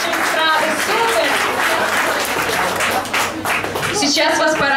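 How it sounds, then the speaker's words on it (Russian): An audience at a concert of pop singers applauds loudly after a performance, a thick, continuous roar of many clapping hands lasting throughout, with no pauses. "Еще раз аплодисменты"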